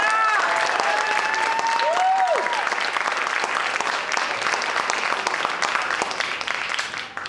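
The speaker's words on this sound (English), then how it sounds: "give a big round of applause for my father, Mr. Dennis Aloia" A big round of applause from a theater audience for a performer's father, dense steady clapping with cheers and voices mixed in, loud and sustained before easing slightly at the end.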